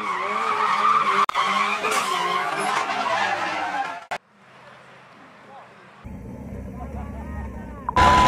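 A three-wheeled car drifting with a loud, sustained tire screech across the first half, cutting off abruptly, then a lower rumble with a faint voice behind it.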